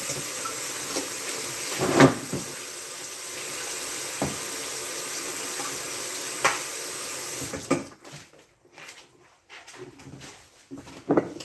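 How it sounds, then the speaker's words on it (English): Running tap water pours into a kitchen sink while hands are washed, a steady close splashing stream with brief knocks, then the flow stops and a few scattered clatters follow. "Let me just wash my hands as we wait."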